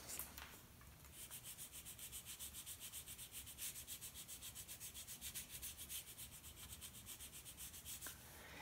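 Sandpaper rubs back and forth over a maple guitar fretboard in quick, even strokes, a soft, close, rhythmic scratching that runs steadily throughout with no talk.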